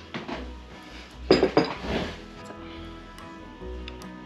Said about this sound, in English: I don't think we're gonna have any troubles digging this out with a spoon